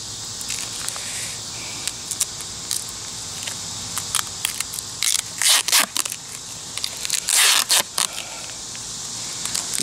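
Tape being pulled and pressed to patch a torn wasp nest cover: a continuous close crackle with several loud, sharp ripping bursts near the middle and end, no talking.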